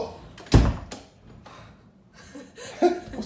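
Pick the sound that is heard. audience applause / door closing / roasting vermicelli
door closing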